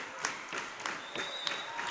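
A crowd at a girls varsity high school volleyball match between Shanley and Sheyenne claps in a steady rhythmic beat, with cheering in the gym behind it.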